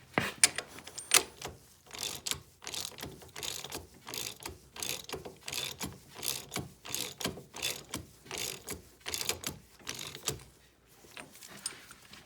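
The rear axle hub nut on a 2001 Honda 250EX is tightened by hand, giving a steady, evenly spaced series of close ratcheting clicks with no talk.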